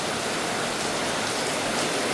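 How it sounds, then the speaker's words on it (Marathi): Steady, dense rain falls in Kerala, a continuous even hiss with no pauses and no voices. "पाऊस सुरू झाला आहे"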